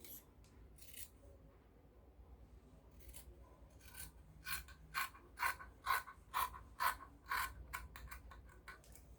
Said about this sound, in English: So the next thing I'm going to do is to go ahead and cut this out.